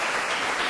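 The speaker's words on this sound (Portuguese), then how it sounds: "pode aplaudir, galera." Brief burst of audience applause at a youth event talk, dense steady clapping from a crowd with no voices over it.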